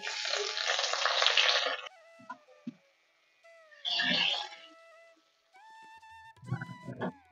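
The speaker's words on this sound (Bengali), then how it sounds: "এগুলো একটুখানি হালকা করে নেড়ে চেড়ে আমি ভেজে নিলাম" Whole cumin, fennel, cardamom, dry chilies and bay leaves fry in hot oil. The sizzle comes in two loud, close bursts separated by quieter gaps that hold thin, high, tonal calls. There is no talking.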